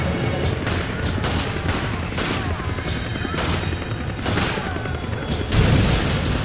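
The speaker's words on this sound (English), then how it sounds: "Man, just shooting rockets like that." Rocket launcher fire and explosions in the video game Resident Evil 5, loud, dense and continuous, with repeated booming blasts and gunfire layered over each other throughout.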